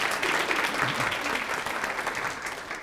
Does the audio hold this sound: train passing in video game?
no